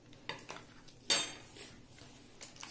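A spoon clinks and scrapes against a bowl while dough ingredients with powdered sugar and baking powder are stirred, a few light taps and one sharper clink, close and quiet, with no talk.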